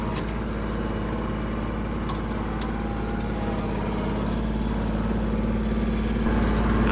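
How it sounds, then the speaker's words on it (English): A small four-wheel-drive tractor's engine runs steadily close by, a constant low droning hum with a slight rise in loudness near the end and no talking. "but this is a small tractor."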